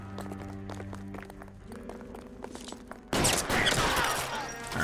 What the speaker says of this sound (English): trying to shoot his hat off